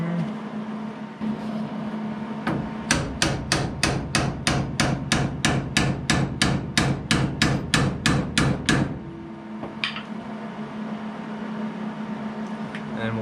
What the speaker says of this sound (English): let's grab my hammer